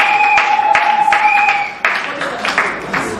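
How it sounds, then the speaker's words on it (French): Scattered clapping from a gathered crowd at a training graduation ceremony, moderately loud, with a steady tone humming in the background during the first half. "si vous l'applaudissez s'il vous plaît"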